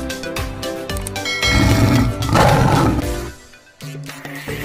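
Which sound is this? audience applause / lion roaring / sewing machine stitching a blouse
lion roaring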